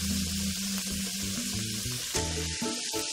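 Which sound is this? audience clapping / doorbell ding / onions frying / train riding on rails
onions frying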